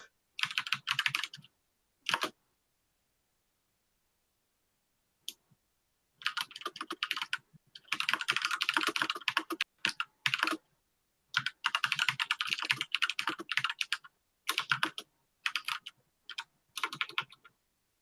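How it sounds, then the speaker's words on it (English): Rapid clicking keystrokes on a mechanical computer keyboard come in irregular bursts separated by short pauses, close and fairly loud, with no talking over it. "It's that mechanical keyboard."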